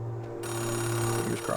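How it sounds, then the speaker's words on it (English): A payphone rings in the video game Oxenfree II, heard in the open as a steady electronic ringing that holds throughout, with a low background hum under it. "A payphone ringing in the wild?"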